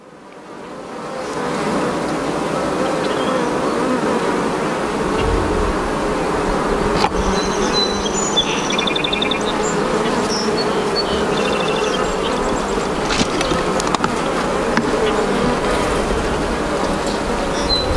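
Honey bees buzz in a dense, steady drone around an open hive during a summer colony split. The swarm noise is loud and close, hovering without letup, with a few brief louder passes of single bees near the microphone and no talking.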